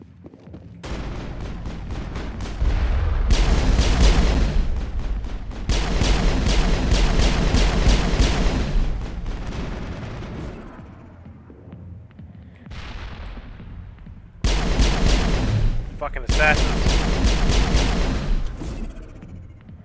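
Gunfire in the video game Mass Effect, loud bursts of rapid shooting and booming blasts in several long stretches, broken by short quieter gaps, with no talk.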